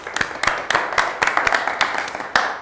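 A small audience at a Hack Fukuoka tech meetup applauds after a talk, with scattered, moderately loud claps in a loose, uneven rhythm over about three seconds.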